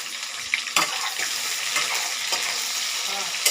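Chopped onions and bay leaves fry and sizzle in a pan for chicken kasa, a steady hiss with a few stirring scrapes and clinks, close by and with no talk.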